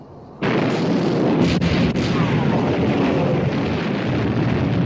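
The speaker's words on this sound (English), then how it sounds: "All turrets ready to open fire, sir. Open fire!" Warship gun turrets open fire at sea in a 1960 war film about sinking the Bismarck: a heavy boom bursts in abruptly, then a couple more sharp reports ring out over a sustained roaring, rumbling barrage.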